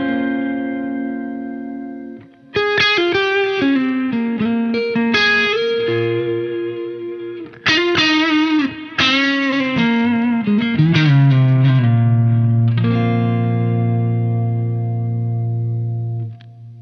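Electric guitar played through a Keeley Compressor Mini pedal, sustained chords and single-note runs with smooth, even-level notes ringing out into long held tones, played alone with no talking.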